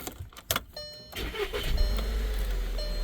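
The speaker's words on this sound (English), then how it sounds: "Okay, now you will start the vehicle." A Volkswagen Tiguan engine cranks with a few quick mechanical clicks and whirs, then catches and settles into a steady, close idle rumble. No voices.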